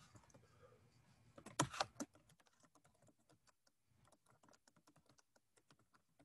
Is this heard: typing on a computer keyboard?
yes